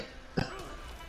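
Man gives a single short cough close by, a brief harsh burst that rises out of quiet background hiss.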